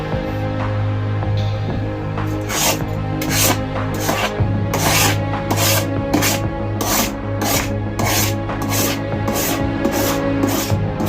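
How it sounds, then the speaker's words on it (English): Knife scraping grooves into tile, a run of about ten even, rhythmic rasping strokes, close and fairly loud over a steady low background hum. "Maybe I'll just take a knife and make some grooves."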